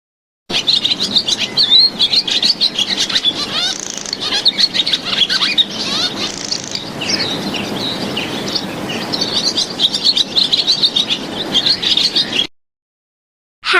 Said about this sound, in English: Swallow.